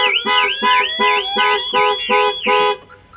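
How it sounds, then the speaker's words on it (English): A Clifford 330 aftermarket six-tone siren blaring on a Ford, loud and close, cycling through repeated rising-falling warbling tones in even bursts for about three seconds before cutting off. "that's the Clifford siren going off. That's a 6-tone siren"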